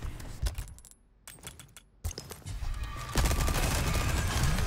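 Rapid bursts of TMP submachine gunfire in Resident Evil 4, loud and close, chattering in dense clusters that build into near-continuous firing toward the end.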